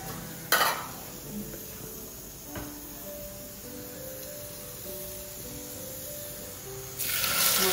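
Whole spices crackling in hot oil in a pan, a faint sizzle with a loud clatter of utensils at the start and end and a low tonal hum throughout, with no one talking.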